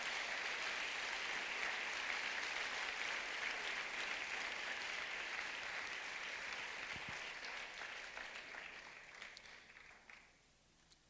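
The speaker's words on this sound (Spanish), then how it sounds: "Den una ofrenda de palmas al Señor" A church congregation applauds, a dense sustained wash of clapping from many hands that holds steady for several seconds before thinning and dying away.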